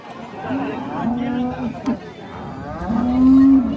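A cow at a livestock market in Sangola moos twice, low and drawn out, with a longer, louder call near the end, over a busy background of people chattering.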